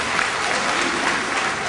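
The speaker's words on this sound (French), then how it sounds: "qu'on applaudit très fort, s'il vous plaît" An indoor hall audience at a community reception claps loudly and continuously, a dense, even wash of applause with a faint murmur of voices underneath.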